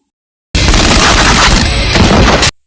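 A loud, dense burst of gunfire lasting about two seconds, rapid shots blurring into one continuous roar that starts and stops abruptly, with no talking.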